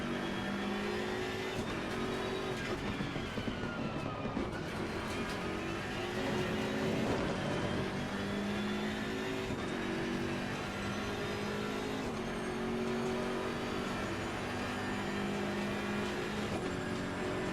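A race car engine in the racing game Assetto Corsa Competizione drones and revs continuously, pitch rising and falling as it accelerates through gears, with no talking.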